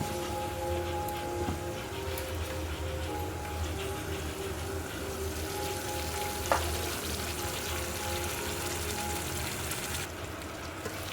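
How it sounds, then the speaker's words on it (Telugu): Chicken fry sizzles steadily in a pan on a gas stove, a dense continuous crackle with a single brief clink partway through and no talking. "చికెన్ ఫ్రై వేగింది ఫ్రెండ్స్"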